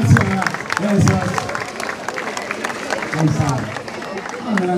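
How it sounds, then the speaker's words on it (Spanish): Audience applause and crowd noise greet young performers at a torch-welcoming ceremony in El Salvador, steady clapping and cheering filling the space at a fairly loud level, with voices and music mixed in. "Quiero un aplauso a los chicos. Aplauso, por favor."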